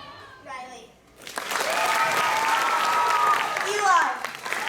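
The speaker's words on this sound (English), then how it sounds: "we gotta give a round of applause" A round of applause from a group of children and adults at a wilderness tour gathering rises suddenly after a short spoken name and holds steady for several seconds, with a voice breaking in near the end.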